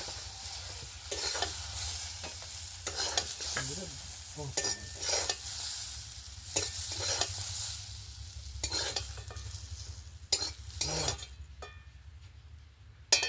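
Flat beans frying in oil for a katla fish mince and potato curry, a steady broadband sizzle with repeated scraping stir strokes and light clinks throughout, moderately loud and close, no voices.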